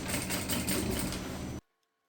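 A sewing machine runs steadily, stitching a slow, careful finishing seam on an eco bag with a divider, its dense mechanical whir continuous for about a second and a half before stopping abruptly into silence.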